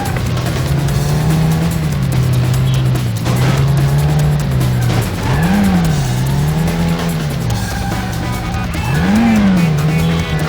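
A car races after a van in the PS2 stunt-driving game Stuntman, with a steady droning engine that rises and falls, repeated tire squeals as it swerves, loud and continuous.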